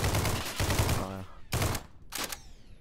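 Bursts of bullpup rifle gunfire in a video game: a sustained rapid volley, then two short, sharp bursts separated by brief pauses, loud and close.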